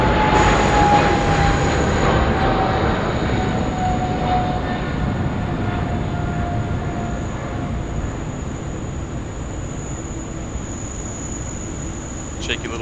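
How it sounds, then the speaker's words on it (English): An Air Canada jet airliner rolls for takeoff on runway 34 left at Sydney Airport, a steady broad engine roar with a faint descending whine, fading gradually as it moves away, with a voice speaking over it. "Air Canada pumping it out, runway 34 left"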